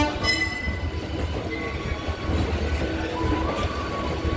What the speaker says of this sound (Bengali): এই হাওড়া থেকে ট্রেন ছেড়ে দিয়েছে,